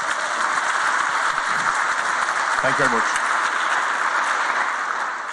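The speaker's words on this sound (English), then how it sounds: "once again, round of applause" Steady applause from a conference audience fills the clip, with a brief spoken thank-you partway through.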